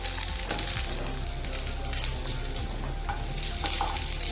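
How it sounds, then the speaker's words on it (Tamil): Peeled garlic, onion and tamarind sauté in hot oil for a coconut-free chutney, a loud, continuous sizzle and crackle close by, broken by scraping stirring strokes, with no talk. "நம்ம உரிச்சு வச்சிருக்க பூண்டு, வெங்காயம், அப்புறம் புளி, இது எல்லாத்தையும் போட்டு லைட்டாக வதக்கி எடுத்துக்கணும்."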